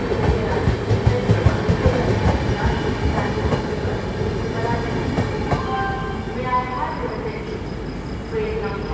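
Jammu Tawi–Tirupati Humsafar Express slowly overtaking at Gwalior Junction, heard from a neighbouring train: a steady rumble with rhythmic wheel clatter and brief tonal squeals, loud and continuous.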